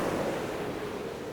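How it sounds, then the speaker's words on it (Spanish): A constant roar of the sea with waves, a dense, steady wash of noise heard alone and unbroken throughout. "salvo por el rugido constante del mar"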